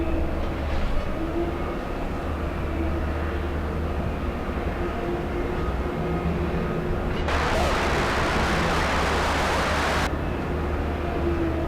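A passenger jet taxiing quickly at Boston's airport gives a steady, loud rumble with constant engine whine throughout, joined by a broad rushing hiss that swells for a few seconds near the end before dropping back.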